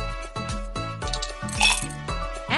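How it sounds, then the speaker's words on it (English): A few bright clinks and clatters as small hard objects drop into a glass, set over steady game background music. "Drop in some ice cubes"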